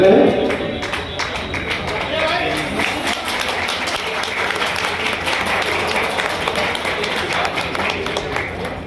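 An audience at a Vaishya community gathering applauds to welcome speakers, with dense, sustained clapping from many hands filling the room and voices mixed underneath.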